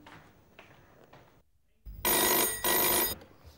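A telephone rings twice in two loud, sustained bursts, following a quieter stretch with faint voices in a room.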